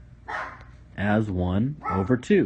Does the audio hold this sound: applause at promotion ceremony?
no